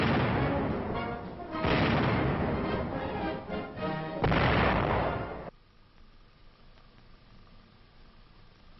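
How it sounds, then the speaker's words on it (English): Bursts of .50 caliber aircraft machine gun fire in comparison firing, loud rapid volleys with short pauses between, ending abruptly into near silence. "Comparison firing, 50 caliber machine gun. An aircraft machine gun."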